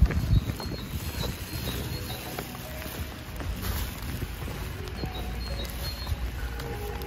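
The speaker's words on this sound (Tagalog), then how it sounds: "Umuulan pa naman." Steady outdoor rainfall patters in a continuous wash on a Dutch street near trash bins, with faint scattered drips and ticks, moderately loud and unbroken.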